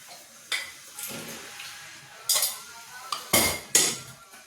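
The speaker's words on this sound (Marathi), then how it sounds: "इकडे मी 2 पळ्या तेल ओतते" A metal ladle knocks and clinks against a cooking pot while pouring oil to temper cooked dal for dal tadka. There are several sharp, close metallic clanks over a faint background.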